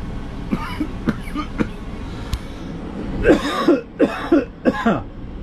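A person recovering after a taxing race breaks into a coughing fit: a few isolated throat sounds early on, then a cluster of four harsh, close coughs in quick succession near the end.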